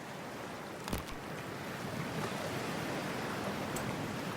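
Water splashing and rushing in Cyberpunk 2077 forms a steady, close, dense wash, with a couple of sharper splashes near the start and no talking.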